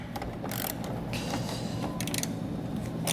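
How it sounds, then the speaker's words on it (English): Ratchet with a 10mm socket loosening a grille fastener on a 2020 Chevrolet, close, dense rapid clicking of the pawl with brief scraping creaks, steady throughout with no talking. "So you're going to go ahead and take a 10mm socket to remove that."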